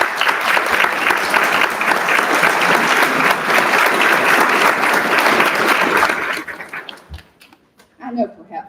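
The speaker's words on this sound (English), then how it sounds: "give them a round of applause" An audience at a School of Education teacher pinning ceremony gives a sustained round of loud applause for about six seconds, then it fades out and a speaker's voice follows.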